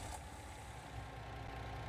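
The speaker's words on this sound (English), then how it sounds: "Oh, please start the engine first." A truck engine in Farming Simulator 19 idling as it starts up, a faint, steady low rumble with no voices present.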